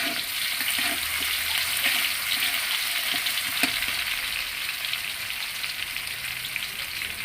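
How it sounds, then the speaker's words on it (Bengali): Onions frying in hot oil in a pan, a steady loud sizzle that holds for the whole stretch with a few small crackles and no one talking. "তেল গরম হয়ে গেছে আমরা পেঁয়াজ দিয়ে দিলাম পেঁয়াজটা একটু ভেজে নিতে হবে"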